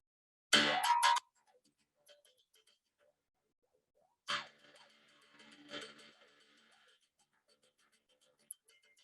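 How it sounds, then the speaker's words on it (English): A mouth bow, using the mouth as a resonance chamber, twangs with a wobbling, boing-like tone, then a second softer twang rings and buzzes faintly, with quiet pauses between. "So in this case, the instrument is called mouth bow. It sounds like this."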